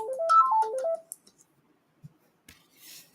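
A mobile phone ringtone plays a quick, close, clear melodic run of bright stepped tones lasting about a second, followed by a few soft clicks and a faint hiss.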